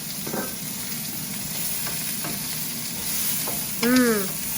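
Onions and minced garlic fry in a pan for lomo saltado, giving a steady close sizzle with light stirring, and a brief voice cuts in near the end.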